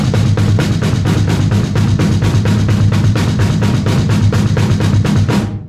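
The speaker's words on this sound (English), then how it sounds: "So it should sound something like this with your feet and hands together." A drum kit playing a triplet bomb blast at a slower tempo, with feet and hands together: steady rapid kicks under regular cymbal and snare hits, loud and continuous with no talk.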